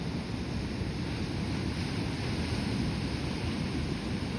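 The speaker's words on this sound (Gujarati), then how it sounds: "અહીંથી કેવા મસ્તીના ભાઈ મોજા દેખાય છે" Steady roar of sea waves washing in, broad and continuous with a rushing wind-like texture throughout, no voices.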